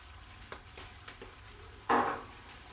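Tomatoes dropped into a frying pan for Algerian tchekchouka, a few soft clicks and stirs followed by a sudden burst of sizzling that tapers off.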